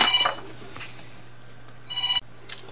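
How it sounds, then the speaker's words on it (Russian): A telephone rings in two short electronic bursts, one at the start and another about two seconds later, with a steady low hum and quiet gaps between the rings. "Опять зазвонил телефон, мне пришлось отвлечься."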